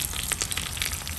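Urad dal, dry red chillies, mustard seeds and curry leaves sizzle in hot oil for a South Indian tempering, a steady close crackle with small pops and no talking.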